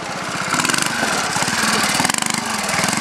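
A trials motorcycle engine revs and pops while the rider works through a section at an outdoor trials event, a loud throbbing, pulsing exhaust note close by.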